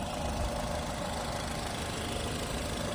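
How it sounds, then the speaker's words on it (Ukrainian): A 2011 Nissan Qashqai+2 2.0 petrol engine idles steadily nearby with the bonnet open, a constant low hum with faint rhythmic ticking and no other sounds. "Моторчик працює як годинник."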